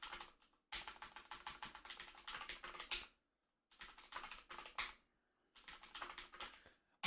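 Typing on a computer keyboard that lags, heard as three separate bursts of rapid, fairly close keystrokes with short silent gaps between them.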